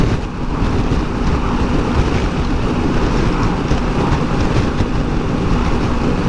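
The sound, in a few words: side wind blowing on the microphone while riding a Honda Africa Twin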